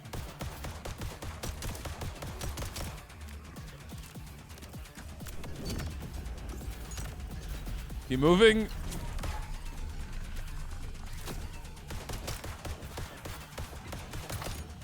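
Rapid bursts of gunfire crackle through a first-person action roguelite shooter, Void Breaker, as a dense, steady stream of shots under a voice, with a brief louder surge partway through.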